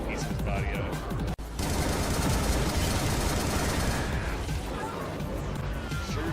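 Gunfire from the Butcher video game rattles in dense, loud, continuous bursts with crashing impacts. There is a brief dropout near the start.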